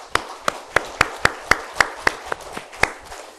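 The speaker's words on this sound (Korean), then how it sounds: "우리 하나님께 영광의 박수 한번 주세요" Church congregation at a Korean Sunday service gives a short round of claps, a dozen or so fairly even beats at a steady rhythm, modest and fairly close.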